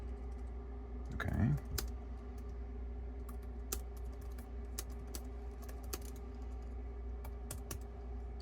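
Someone types on the keyboard case of a Boox Note Max, sparse, irregular key clicks at close range over a steady low hum, with one louder rustle near the start.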